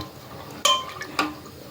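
Potatoes and peas in water with a pinch of turmeric and salt stirred in a pressure cooker, heard as two sharp metallic clinks of a spoon against the pot, close and alone.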